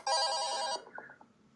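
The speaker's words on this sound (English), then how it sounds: "it's my alarm tone" A phone alarm tone rings in a loud, bright electronic burst under a second, then cuts off into a few faint trailing notes.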